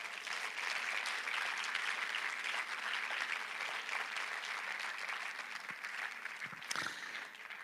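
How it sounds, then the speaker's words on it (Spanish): A church congregation breaks into loud, sustained applause that fills the room without letup. It fades slightly near the end, with a few brief louder bursts. "dale un aplauso al Señor"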